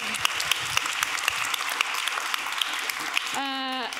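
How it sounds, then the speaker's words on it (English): Audience applause at an investor conference session, a steady patter of clapping with a few sharper claps, fairly soft, ending as a brief rising electronic tone cuts in. "And please give a big applause."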